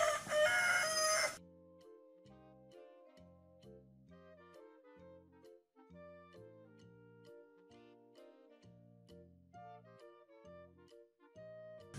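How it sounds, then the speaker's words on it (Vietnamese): A rooster crows in a loud, brief burst, then a soft, bouncy children's melody plays steadily underneath. "Con gà trống kêu thế nào?"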